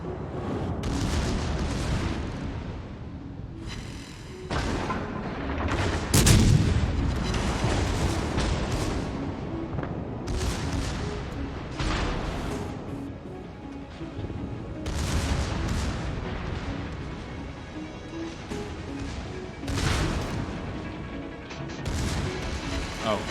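Naval artillery salvos booming in a warship video game, a series of loud repeated blasts and crashes spread across the span, with a voice talking intermittently underneath.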